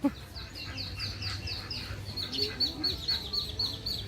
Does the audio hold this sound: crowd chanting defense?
no